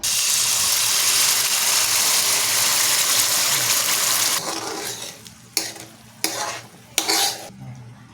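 Ham macaroni with spaghetti sauce sizzling and being stirred in a pan, a dense steady frying hiss for several seconds, then quieter scraping with three sharp utensil clacks against the pan.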